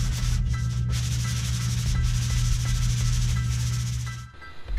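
Drywall around openings being sanded by hand during a house remodel, a steady scratchy rubbing that runs on continuously at close range with a low hum beneath, then stops near the end.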